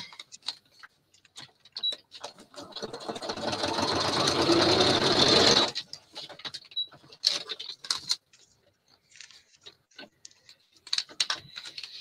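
A sewing machine stitching through paper booklets runs in one steady, fairly loud burst of about three seconds mid-clip, with scattered clicks and handling noises before and after and no talk.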